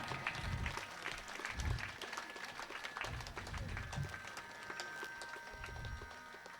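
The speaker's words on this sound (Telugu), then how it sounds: "గట్టిగా చప్పట్లు కొడదాం మన జక్కా రాఘవరావు మాస్టర్ గారికి." An audience at the opening ceremony of a pyramid meditation ashram claps in sustained applause that rises and falls over several seconds, with a few louder thumps of nearby hands and faint voices underneath.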